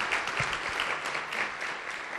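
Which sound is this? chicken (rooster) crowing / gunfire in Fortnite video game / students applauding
students applauding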